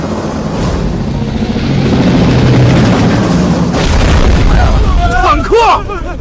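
A tank fires from a rooftop, a heavy deep boom swelling into a long loud rumbling roar at close range, with someone shouting over the end.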